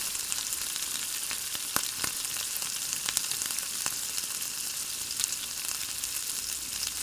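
Sliced bitter gourd fries in hot oil with a steady, dense sizzle as spice powder goes in. Faint scrapes and stirring clicks break through now and then, with no talking.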